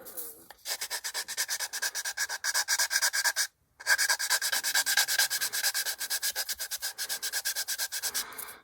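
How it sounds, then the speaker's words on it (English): Fast, rhythmic scratchy strokes of sandpaper sanding primer off a 1/48 plastic B-25J model, close and steady, with one brief pause partway through. "And we're sanding away the primer too,"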